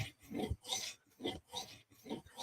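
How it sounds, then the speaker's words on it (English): A KME sharpening stone rubs along the recurve edge of a knife in faint, rhythmic strokes, about five soft rasping passes close up. "Kind of rolling the stone up on its edge to get through the recurve so it doesn't like just sit flat in there."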